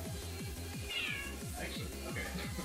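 A cartoonish cat meows in an indie video game, a short mewing cry heard over a looping, repetitive game tune, fairly quiet and close.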